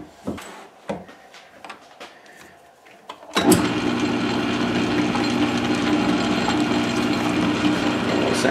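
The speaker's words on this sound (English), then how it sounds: "Actually, speed up the lathe." A quiet workshop with scattered clicks and taps gives way to a loud, steady machine whir as a lathe spins up to speed and keeps running evenly.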